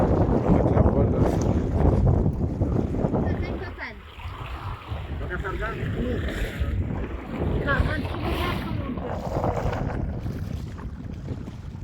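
A sailing pirogue moves across open water in Madagascar, with continuous wind buffeting and water rushing against the hull, and voices talking over it.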